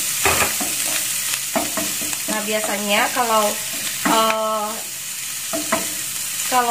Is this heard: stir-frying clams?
yes